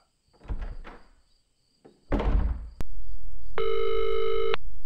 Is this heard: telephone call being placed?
yes